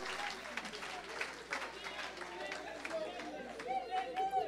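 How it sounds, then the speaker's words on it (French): A church congregation applauding a brother, with steady crowd clapping held at moderate distance under a speaker's voice and some chatter throughout. "Can we clap for the brother?"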